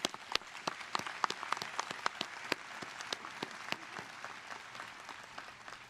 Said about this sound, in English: Please join me in one more round of applause for our honorees.